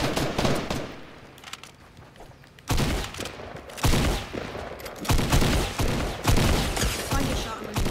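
Rapid gunfire from the mobile version of Fortnite, with a sparse opening stretch followed by dense, loud volleys of overlapping shots that keep going almost without pause for several seconds.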